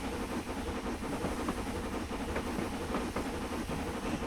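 Steady loud hiss of steam venting from the drain cocks of a V2 steam locomotive on the Settle to Carlisle line, a continuous dense roar with faint rhythmic chuffing beneath, no voices.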